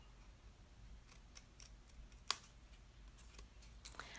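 Scissors snip through scored craft card stock, a few soft close cuts with one sharp crisp snip standing out, no voice.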